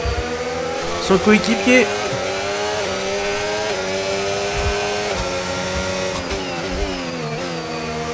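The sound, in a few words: Formula 1 car engine in the F1 25 video game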